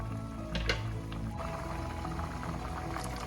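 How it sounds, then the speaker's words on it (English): Water pours into a 4-quart cooking pot on high heat while pork sinigang is made, a steady soft liquid fill with small splashy bursts, heard close. "Adding some more water in now here, folks."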